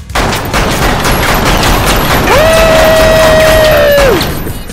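Rapid, loud gunfire from an SMG and a handgun in the VR shooting game Lethal VR, shots crowding into a dense burst across the whole stretch, with a long sustained electronic tone rising partway through.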